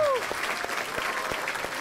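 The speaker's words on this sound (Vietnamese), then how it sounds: "Một tràng pháo tay cho gia đình." Audience applause on a Vietnamese family game show, a short burst of steady clapping at moderate loudness that starts right after a brief voice and carries on evenly.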